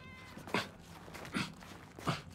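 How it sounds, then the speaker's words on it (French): A cat meows three times in the Indiana Jones and the Great Circle video game, short, evenly spaced, plaintive cries heard close and alone against a quiet background. "Je t'ai déjà pris en photo, petit chat."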